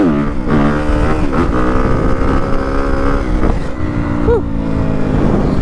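A Yamaha WR250F dirt bike fitted with a new YZ exhaust revs hard and close, its loud engine note rising and falling through several sharp blips and sustained pulls.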